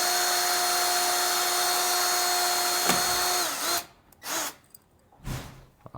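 Power drill running steadily with a bigger bit, a continuous whine that cuts off partway through, followed by quieter bumps and handling noises.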